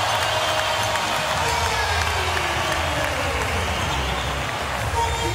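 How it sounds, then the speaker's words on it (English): A crowd in a basketball arena roars steadily during a Miami Heat game in the 2013–14 season. The dense, loud cheering rolls on throughout, with commentary faintly underneath. "That got the crowd livened up here this afternoon"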